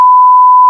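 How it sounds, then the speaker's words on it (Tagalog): A single loud, steady electronic tone sounds alone for just under a second as a phone signals an incoming call, then cuts off abruptly into near silence. "telepono. May tumawag sa'yo."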